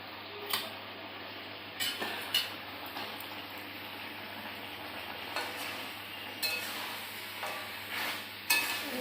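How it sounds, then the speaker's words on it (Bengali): Meat sizzling as it is sautéed in a pan during home cooking, with steady frying hiss and repeated sharp clinks of a spoon scraping and stirring against the pot. "মাংসটা কষাইতেছি, কষানো হয় নাই পুরো করে।"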